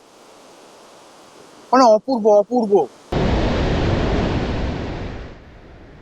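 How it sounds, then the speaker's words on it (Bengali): Ocean surf roaring on a quiet, secluded beach in Vizag, a broad rushing wash that surges in loudly after a short spoken phrase and then slowly eases, with faint wind-like hiss beneath a brief voice at the start. "শুধু সমুদ্রের গর্জন"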